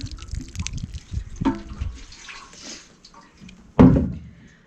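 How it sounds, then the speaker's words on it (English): Water pours onto the soil around a newly planted clematis in full sun, with a soft trickle and splashing that ends in a louder, nearby gush of water from a can. "I think that's going to be enough water for this particular plant."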